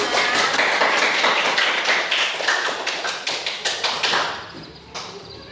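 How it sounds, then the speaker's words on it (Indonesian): A classroom of students claps together after a rhythmic clapping chant led by their teacher. The claps start dense and fast, then thin into a few scattered, uneven claps before fading. "Ya, tepuk tangan untuk kalian semua."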